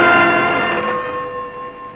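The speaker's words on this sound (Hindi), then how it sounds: "जरा टेलीफोन देखो।" A single bright electronic telephone ring sounds loudly and then fades away, with no talking.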